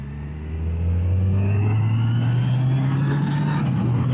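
Motorcycle riding at roughly 50-70 km/h picked up by a wireless clip-on mic with noise cancellation off: a loud, steady engine drone with strong wind rumble, rising slightly in pitch as the ride holds speed.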